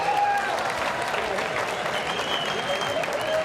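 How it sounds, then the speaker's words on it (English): Big arena crowd applauding and cheering for two bare knuckle fighters at Hard Rock Live in the Seminole Hard Rock Hotel and Casino, Hollywood, Florida; a dense, steady roar of clapping with a few whistles that holds throughout. "let's have a nice round of applause for both fighters"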